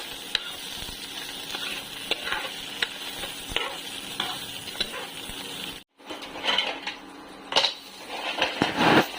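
Ginger sautéing in a pan for a Bicol-style mussel and water spinach stir-fry, a steady close sizzle with scraping stirs and occasional utensil clinks, briefly cutting out before resuming louder.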